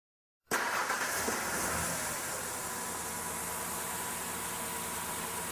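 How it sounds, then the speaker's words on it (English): A car engine cranks and fires after a short silence, then settles into a steady, close idle with broadband hiss and no talking. "Let's go ahead and start the engine up."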